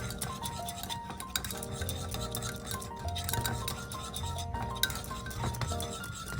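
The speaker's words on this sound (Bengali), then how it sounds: "সব কিছু একসাথে মিশিয়ে নিচ্ছি।" A paste being stirred and mixed into seasoned ingredients in a bowl, a steady close scraping and rubbing with light clinks of a spoon against the bowl, continuous and fairly quiet, no talking.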